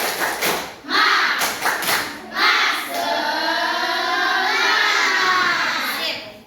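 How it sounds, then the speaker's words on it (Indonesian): A classroom of children claps out a rhythmic cheer, with several quick, loud claps in a pattern, and then the children chant together in a sustained shout. "Tepuk semangat."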